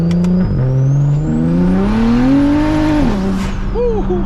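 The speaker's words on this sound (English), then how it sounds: "This thing breaks the tires loose so easily." A single-turbo BMW 335is with a modified exhaust pulls hard, its loud engine note climbing steadily through the gears while the tires break loose, heard up close with no talking.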